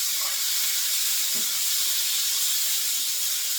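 Chicken pieces seasoned with salt and pepper sizzle in an oiled pan, a steady loud hiss of frying that stays constant and close, with no talking.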